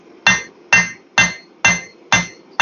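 A hammer strikes hot steel six times in an even, unhurried rhythm while a pair of shears is being forged, each blow a sharp ringing clang that fades quickly, loud and close with no talking.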